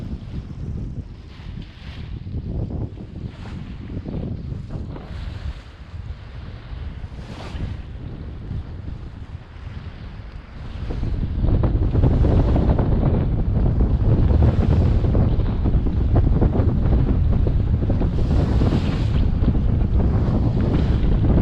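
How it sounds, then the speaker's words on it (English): A sailboat motor-sails through rough seas off Land's End. Wind buffets the microphone over a constant low rumble of water and engine, which grows louder and heavier about halfway through, with no voices. "Having to motor sail at the moment."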